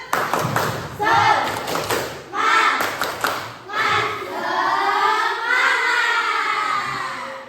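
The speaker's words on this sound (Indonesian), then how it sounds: "sebelum pulang, tepuk semangat." Schoolchildren in a classroom do a rhythmic spirit clap at the end of a lesson, sharp bursts of hand claps mixed with loud chanted voices in an energetic call-and-response pattern.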